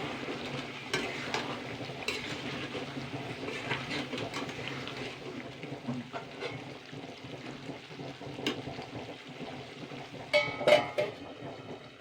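Chicken curry with green peas stirred in a wok, with soft scraping and wet shuffling of a spoon through the thick mixture, fairly quiet and close, a few louder clacks near the end.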